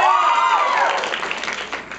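A theater audience claps and cheers together. Whoops sweep over the start, and a steady wash of applause continues beneath them.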